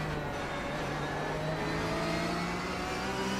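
Race cars in a sim racing game lap Imola through the Rivazza left-handers, engines whirring and revving at moderate level with a rising pitch as they accelerate.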